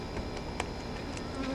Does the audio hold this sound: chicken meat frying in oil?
no